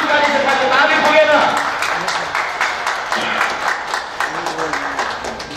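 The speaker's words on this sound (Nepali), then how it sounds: "ताली बजाउँ हामी।" A hall audience at a Nepali Christmas program applauds a guest being seated, a loud, full burst of clapping that gradually thins, with a voice speaking over it.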